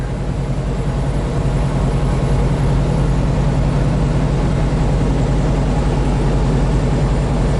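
Steady, loud low rumble of a car engine idling at about 1,260 RPM, a constant drone with no change in pitch or level throughout, heard close up.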